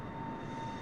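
Boeing 747 engine in a flight simulator game, a steady faint jet drone with a thin constant whine, heard alone for under a second.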